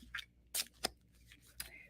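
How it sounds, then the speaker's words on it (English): A deck of tarot cards being shuffled by hand: four quick, crisp riffling bursts spaced irregularly across a couple of seconds, close and fairly quiet with no voice. "So then you shuffle your cards."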